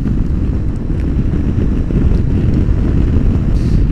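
Heavy wind roars and buffets steadily against the microphone while riding a 2021 Honda CB500X motorcycle on a race track, a dense low rumble throughout.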